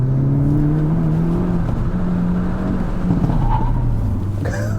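A 2022 Hyundai Elantra N engine drones steadily with rising and falling revs and a throaty exhaust note, close and loud throughout, without any voices.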